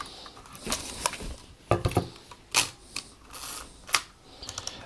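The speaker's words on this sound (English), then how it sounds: "You can hear that lovely mechanical shutter." A silver Nikon FM film camera fires its mechanical shutter and winds film on, producing several crisp close clicks and short ratcheting winds, with no talking.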